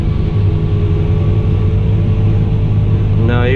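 A Fendt 1050 tractor drives steadily with its discs lowered into the ground, a loud, continuous low engine drone and rumble holding constant throughout.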